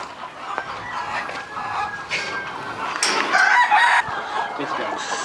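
Kaveri breed chickens cluck and a rooster crows nearby, over a busy farmyard background with a faint voice now and then.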